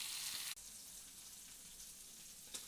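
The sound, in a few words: sankara fish frying in a pan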